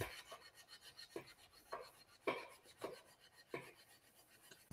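A blade is sharpened on sandpaper locked in place, giving a series of rhythmic, close rasping strokes about every half second, each a soft scraping rub with short pauses between.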